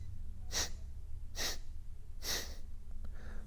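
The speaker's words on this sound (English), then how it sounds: "Exhale in 4 segmented exhales through the right nostril." Three sharp, forceful breath bursts pushed out through the right nostril at an even pace, close and airy, each a brief hiss, followed by a softer fourth puff, with no talk.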